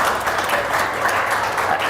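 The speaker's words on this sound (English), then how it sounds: "Big round of applause from him." A crowd applauds a guest on a sports podcast, a dense, steady wash of clapping that carries on unbroken for a couple of seconds at moderate volume, with no voices over it.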